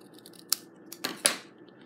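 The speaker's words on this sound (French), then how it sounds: "Et je vais tout simplement venir couper les bouts comme ceci." Scissors snipping the ends of stamped paper card for a Stampin' Up! craft project, a few quiet close crisp cuts spaced unevenly over a soft background, with no talking.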